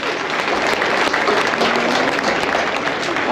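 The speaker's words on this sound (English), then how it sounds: "Go ahead and give this class of market steer exhibitors a round of applause" Dense, steady applause from the crowd at a county fair livestock show after a class of market steers is judged, even and sustained throughout.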